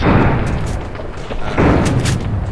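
Shotgun blasts in Fallout New Vegas ring out as a few loud, booming reports over a dense, noisy game soundscape of combat.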